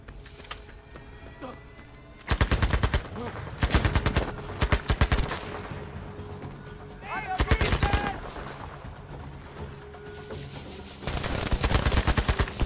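Gunfire in the Battlefield 5 video game on PC: loud bursts of rapid automatic shots in several volleys, separated by quieter stretches of in-game ambience, with a brief tonal effect midway.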